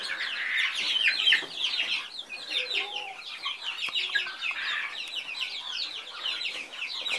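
Young bantam chickens about six weeks old, in a flock on a backyard plot, cluck and cheep continuously at close range, a dense overlapping chorus of short calls with no talking.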